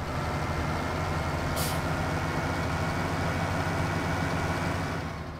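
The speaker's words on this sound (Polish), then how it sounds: "ten to chyba jest może taki przerobiony dźwięk z ciągników JCB" Modified JCB tractor engine from the Farming Simulator Modern Classics expansion, a steady loud diesel drone with a constant rumble throughout and a brief hiss partway in.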